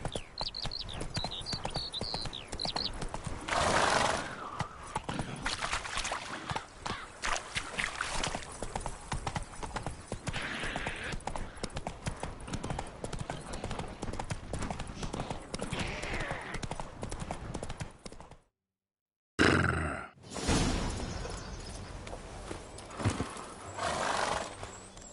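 The horse Roach in a video game, trotting hooves clip-clopping steadily and close, with occasional neighs and whinnies over a dense game soundscape that cuts out briefly near the end.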